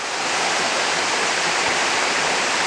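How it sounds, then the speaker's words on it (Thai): A steady, full rush of falling water pours continuously at close range at the fifth tier of Dat Fa Waterfall in Surat Thani, Thailand, with no voices or breaks. "ตอนนี้เราก็ได้มาถึงน้ำตกดาดฟ้าที่ชั้น5นะครับ"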